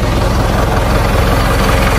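Isuzu NPR reefer van with a 4JJ1 diesel engine idling up close, a loud steady low rumble with an even throbbing pulse and no talking.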